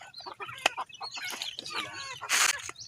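Backyard chickens clucking and squawking excitedly at feeding time, with dense overlapping calls close by and a brief louder flurry of wing-flapping near the end.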